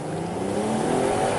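A BMW M540i fitted with a catless downpipe drives past in a brief, steady burst of broadband engine and road roar, fairly close and unbroken, with no voices.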